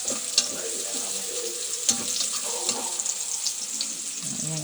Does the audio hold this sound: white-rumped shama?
no